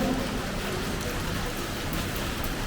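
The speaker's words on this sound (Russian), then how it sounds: "Дождь не заканчивается." Steady rain falls outdoors, a dense even hiss of drops with no breaks and no other distinct sounds.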